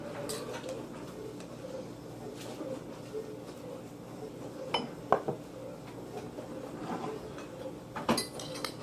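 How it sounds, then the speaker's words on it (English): A fork scoops drained corn and peppers out of a pot or bowl, giving quiet scraping with a few sharp metallic clinks, including a cluster in the middle and another near the end, over a low background. "going to scoop out the corn and peppers without the juice. I'm using a fork."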